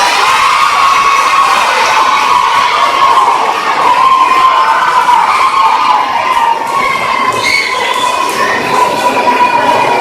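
A loud, continuous crowd at a marathon cheers and shouts, many children's voices among it, forming a steady roar of celebration for the runners that runs unbroken for ten seconds.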